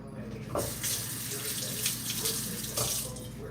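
Water runs steadily from a tap into a sink, a constant splashing rush with a few louder gushes.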